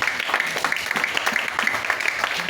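A church congregation claps together, a dense continuous patter of hands over a few seconds with faint voices mixed in.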